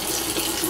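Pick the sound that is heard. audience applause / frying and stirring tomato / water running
water running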